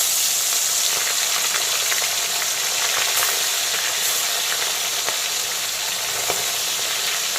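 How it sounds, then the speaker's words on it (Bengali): Salted, turmeric-coated parshe fish frying in smoking-hot mustard oil, a loud, continuous close hiss and crackle with small pops and no talking. "এখন একে একে লবণ হলুদ মাখানো পার্শে মাছগুলোকে আমি তেলের মধ্যে"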